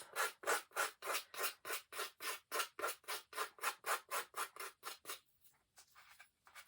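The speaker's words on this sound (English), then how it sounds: "I can scrape it right" A tool scrapes wet faux impasto paint back off cardboard in about twenty rapid, even strokes, loud and close, then slows to a few softer scrapes.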